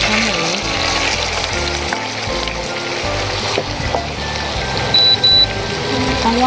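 Pork and garlic frying in a pan for Thai pork fried rice, a loud close sizzle with stirring clatter throughout and a couple of short beeps near the end.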